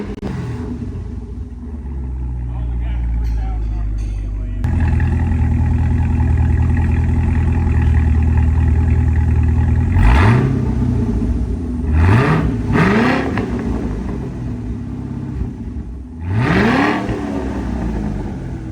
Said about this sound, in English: I'm gonna go ahead and give you exhaust sound